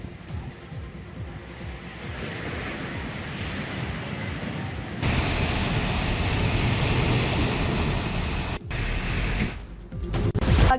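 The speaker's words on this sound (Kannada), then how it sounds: "ಕಡಲ ಅಬ್ಬರಕ್ಕೆ ಭಾರೀ ಪ್ರಮಾಣದಲ್ಲಿ ಕಡಲ ಕೊರೆತ ಉಂಟಾಗಿದೆ." Rough sea surf pounding an eroding coastline, a steady broadband roar of waves and wind that grows heavier midway, with no voices.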